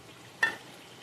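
Green chilli masala paste dropped into a pan of frying paneer curry with cumin and whole garam masala, one quick sharp hiss that fades over a faint background sizzle, no talking.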